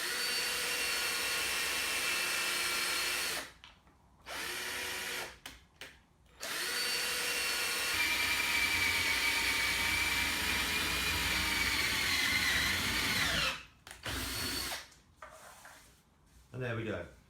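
A 25 mm hole cutter on a power drill bores through hardboard for an IKEA Lack table leg, running in long steady whirring stretches broken by short pauses and restarts, loud and close with no talk over it.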